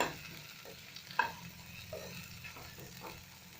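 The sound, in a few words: stirring taro with turmeric and salt in pan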